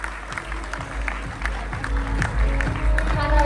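An audience clapping for the chief guest, Javed Akhtar, as he comes onto the stage at a university event. The applause is dense and steady and swells slightly toward the end, with crowd noise underneath.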